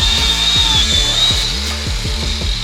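A power tool grinds and buzzes in steady rough bursts while removing a stuck frame slider bolt from a wrecked 2018 Honda CBR1000RR motorcycle, close and fairly loud, with no talking.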